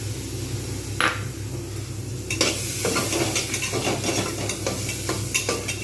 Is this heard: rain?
no